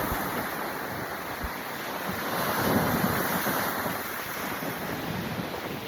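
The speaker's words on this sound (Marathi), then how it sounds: "खतरनाक लाटा येतात इथं" Big sea waves rolling onto Navgaon beach near Alibag on the Konkan coast, a continuous broad roar of surf with wind buffeting the microphone, swelling slightly midway.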